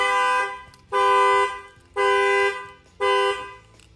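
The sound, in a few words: Dodge Charger factory car alarm going off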